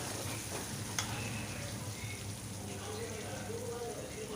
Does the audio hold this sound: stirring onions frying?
yes